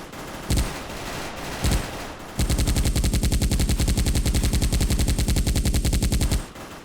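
Video game gunfire from Special Force while shooting zombies: two single loud shots, then a long, rapid automatic burst of evenly spaced cracks lasting about four seconds, close and sharp, with no talking.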